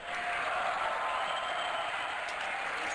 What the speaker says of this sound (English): DreamHack, make some noise!